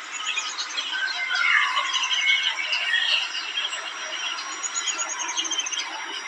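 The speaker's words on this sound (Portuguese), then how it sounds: "o cantar dos passarinhos é muito gostoso" Birds sing at dawn on a country smallholding, many small chirps and trills overlapping at moderate distance in a continuous chorus with no talking.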